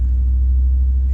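A 1987 Camaro IROC-Z with a 350 TPI V8 converted to EZ-EFI, heard while driving as a steady, loud low-frequency engine drone and rumble, continuous with no breaks or talk.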